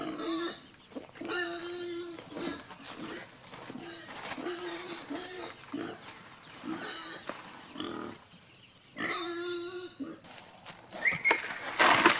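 Chickens cluck and squawk in repeated bursts, fairly close, with bursts of louder calling and a busy barnyard background.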